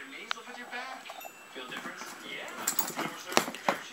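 Knives shift and clink inside a knife kit bag, a Walmart tool-kit style carry bag, giving a quiet, irregular series of metallic rattles and taps, growing busier toward the end.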